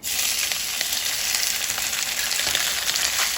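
Cooked rice fries in two tablespoons of hot oil, giving a loud, even, close sizzle with a few faint stirring clicks and no voices.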